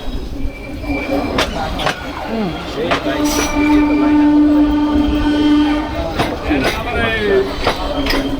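The Narayanganj commuter train rumbles at Narayanganj station, with loud close wheel clatter, a long sustained horn blast and squealing, sharp metallic clanks, and people talking nearby.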